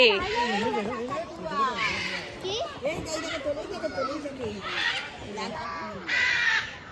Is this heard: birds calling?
yes